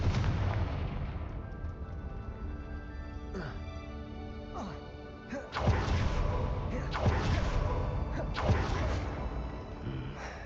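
Confringo fire spells explode in the Hogwarts Legacy video game, with several loud booming blasts in the second half over a steady rumbling background.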